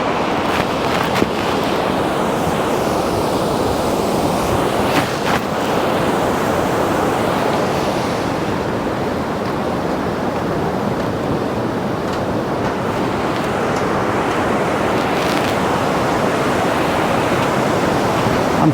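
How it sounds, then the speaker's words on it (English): A Himalayan river rushes and roars along the trek from Phakding to Namche Bazaar, a loud, continuous wash of flowing water that stays steady throughout with no voices. "I'm loving the sound of the water"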